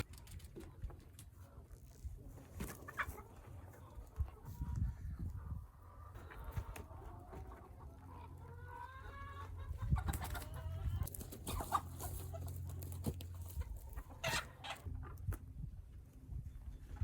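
Chickens on a regenerative farm cluck and murmur in scattered bursts, fairly quiet and close, over a low background rumble.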